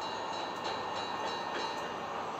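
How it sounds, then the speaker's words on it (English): A train passing in a Splatoon 3 video game trailer: a steady, dense rumbling rush that holds at an even level throughout, with faint rhythmic rattles beneath. "There's the train."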